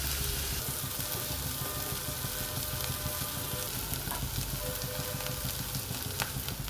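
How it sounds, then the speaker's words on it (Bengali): Sliced bitter gourd and green chillies fry in a pan while being stirred, giving a continuous close sizzle with occasional scraping of the spatula and no speech. "ভালোভাবে নেড়ে নিতে হবে এবং নাড়তে নাড়তে এটাকে ভাজা ভাজা করে ফেলতে হবে"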